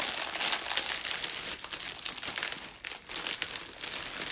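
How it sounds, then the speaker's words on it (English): Plastic candy and gum packaging crinkling and rustling close by, a continuous crackly handling noise with no talk over it. "Lots of crinkling in this haul."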